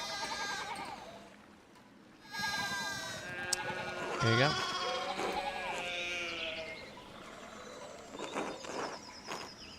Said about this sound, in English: He's having to deal with all these sheep.